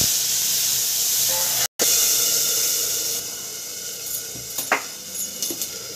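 Spice paste hisses and steams loudly in a hot kadhai. After a brief cut the sizzle settles into a softer, steady hiss with a few faint knocks and clinks.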